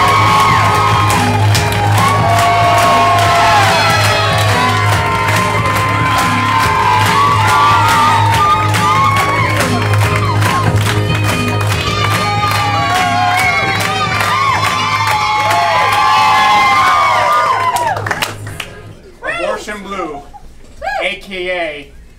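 A comedy club audience cheers, whoops and shouts in a loud, dense, continuous roar for a team of challengers at an improv show, breaking off near the end into a few scattered shouts.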